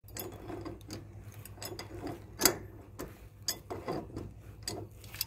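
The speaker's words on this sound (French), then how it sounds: "maintenant on va dévisser tous les raccords pièce par pièce" Pipe fittings on a 1¼-inch main shut-off valve at the base of a plumbing riser being unscrewed piece by piece, with irregular metallic clicks, scrapes and knocks close by and one sharp clank midway.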